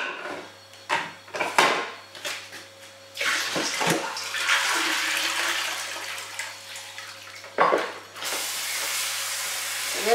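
Food is washed in a basin as water is poured and swished, with splashing bursts early on, then a long steady pour and another rush of running water near the end, close and clear without talk.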